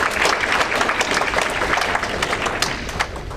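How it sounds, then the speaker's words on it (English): An audience at a cannabis and hemp industry meeting gives a round of applause for CBD Pros, dense and close clapping that stays steady and then slowly thins. "Let's give a round of applause to CBD Pros."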